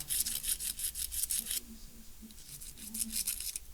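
Rapid back-and-forth scratching strokes roughening a surface so glue will hold during a loose electrical outlet repair, close and rhythmic in two bursts separated by a short pause.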